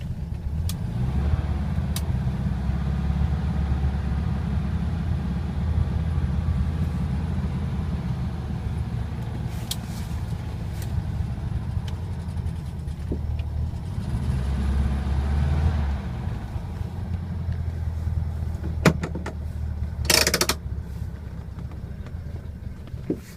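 A 1957 Volkswagen Beetle engine runs roughly on a cold start, a steady low rumble that loads and surges unevenly for over twenty seconds, with a few brief clanks near the end.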